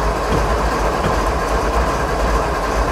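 Simulated train rolling along railway tracks in the video game Train Sim 2015, a dense continuous rumble with rhythmic clatter and engine hum, loud and steady, no talk.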